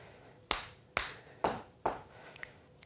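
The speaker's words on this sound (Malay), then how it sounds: "Saya nak tunggu guna tangan, petik jari dengan hentak kaki." Body percussion in a music lesson: four crisp, evenly spaced hits about half a second apart, made by a hand clap, a finger snap and a foot stomp, followed by a couple of faint taps in a quiet room.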